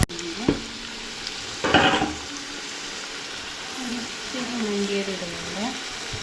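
Sliced onion frying in oil in a pan while cooking crab curry for crab biryani, a steady hiss with a burst of louder crackling as more goes in, and a voice talking faintly over the sizzle.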